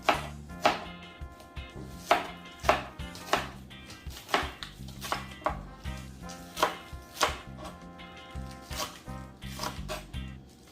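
Knife chopping scallion on a board for a Jamaican-style brown stew pork seasoning: a steady run of sharp, close, moderately loud chops in uneven rhythm, with no talking.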